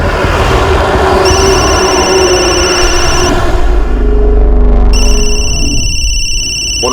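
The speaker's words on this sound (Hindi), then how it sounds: "फोन उठाओ संजय, शायद उन्हीं का हो सकता है।" Telephone ringing indoors in a Hindi crime drama scene, a loud electronic ring tone repeating in bursts, with a second, different ringtone cutting in near the end; no talk.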